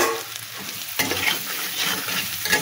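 A spiced tempering fries in a pan, steady close sizzle with scraping stir strokes and a sharp clatter of the utensil near the start, no one talking.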